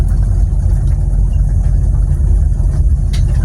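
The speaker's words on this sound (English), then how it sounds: "we'll see where we're at for cold idle now that it's idled back down" A car engine idles cold after sound deadening was fitted, a loud, close, steady low rumble with an even throb and no talk.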